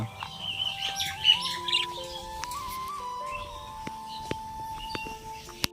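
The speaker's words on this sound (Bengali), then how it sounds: "পাখিগুলো নেমে এসছে দেখো পাখিগুলো নেমে এসছে ওরাও খাচ্ছে পেয়ারা" Small birds come down to feed on guavas in a home garden tree, with faint scattered chirps and tweets and a few soft clicks over quiet background.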